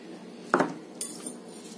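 Utensils stirring a salad topped with sesame seeds in a bowl, two or three short clinks and scrapes close by, with quiet between them.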